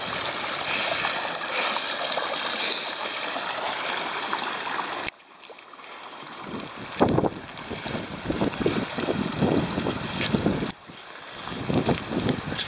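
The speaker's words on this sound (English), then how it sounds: "Oh, it's a waterfall." A waterfall on a winter trek gives off a steady, loud rushing roar that fills the whole clip, with gusts of wind buffeting the microphone.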